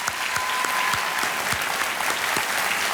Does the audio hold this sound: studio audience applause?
yes